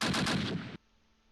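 Rapid burst of gunfire in the Close Combat war game, Panthers in the Fog, 1944 battle at Hill 314: about six quick, loud, close shots in a rattling automatic rhythm, cut off sharply into near silence.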